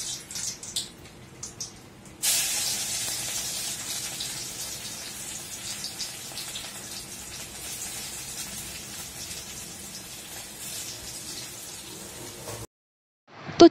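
Steady rush of excess rice starch water poured into a kitchen sink basin, a continuous splashing hiss lasting over ten seconds before stopping abruptly.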